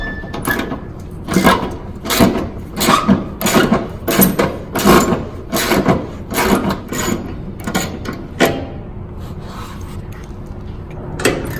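Bolt being unscrewed from the front fender of a 2006-2010 Dodge Charger, a close, repeated rasping and rubbing of a hand tool in quick strokes, loud and steady, with no talking.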